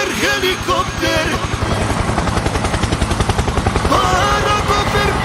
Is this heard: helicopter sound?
yes